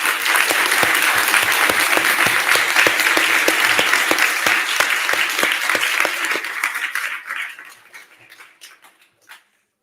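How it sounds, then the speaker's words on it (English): Audience applause at a kid governor inauguration ceremony: loud, sustained clapping from a large crowd with a few sharper nearby claps, fading and thinning to scattered claps before stopping. "Please join me in a round of applause for all of them."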